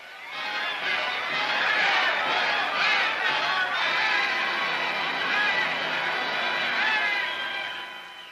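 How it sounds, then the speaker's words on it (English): Large agitated crowd pushing at the gates of the Japanese Premier's residence in 1946 as police try to force it back, heard as a dense, continuous roar of many shouting voices, steady and loud throughout with faint cries rising within it. "At the gates of the Premier's home, Japanese police try vainly to force the crowd back."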